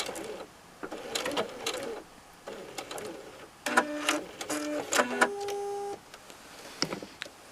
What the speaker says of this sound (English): Let me press a foot so I can turn and then sew all the way up.